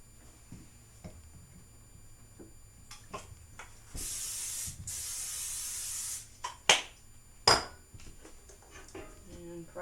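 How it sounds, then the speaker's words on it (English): Two hissing bursts of cooking spray onto a casserole dish, each about a second long, with soft kitchen clatter and sharper metallic clinks afterward. "I'm gonna spray it."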